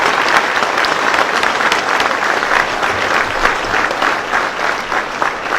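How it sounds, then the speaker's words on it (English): A motorsport crowd gives sustained applause in tribute to a late junior dragster racer, a thick, even roar of many hands clapping at close range, continuing steadily for several seconds. "I think we should give him a round of applause"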